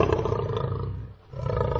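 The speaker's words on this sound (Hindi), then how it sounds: "तो यहाँ पे आप लोग सुन सकते हो लायन साउंड यहाँ पे आपको दे देगा।" A lion roar played back by a Google Assistant phone search, one sustained deep growling roar with a short dip in the middle, loud and close with no talking.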